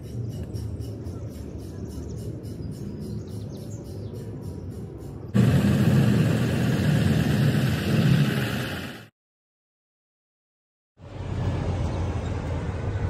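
A large mobile crane, among the biggest in Southern California, sits idling on arrival at a residential backyard-unit install site, giving a steady low engine rumble that swells louder midway, drops out briefly, then resumes.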